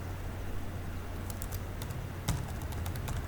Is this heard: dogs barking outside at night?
no